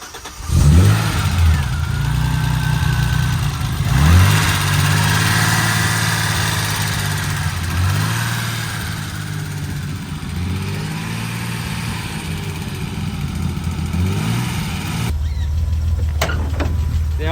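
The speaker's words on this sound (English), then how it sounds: "Start it up one more time." A BMW E30's engine cranks and catches, then settles into a steady idle broken by a series of quick throttle blips that rise and fall every few seconds. It is close and loud, with no voices.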